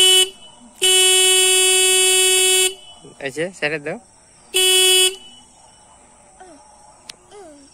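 A motorbike horn blares twice close up, first a long steady blast of about two seconds and then a shorter honk, with people talking briefly between the blasts.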